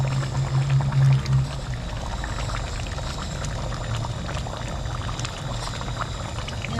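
Fish simmering in a pot on a gas stove gives a steady low bubbling, with a brief louder gurgle near the start, then an even rolling boil heard close and alone.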